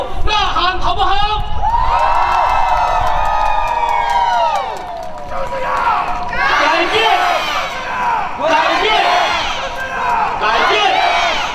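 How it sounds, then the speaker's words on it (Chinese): A large crowd at a political rally for an Indigenous candidate roars with loud, sustained shouting, whoops and cheering that surge in repeated waves. "再一次为马耀庇护呐喊，好不好？"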